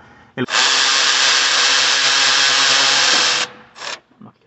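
A power tool with a socket on a 3-inch extension spins out engine mount bolts on a 2010 Chevy Tahoe, giving a loud, steady whir lasting about three seconds, with a brief second burst and clinks before and after.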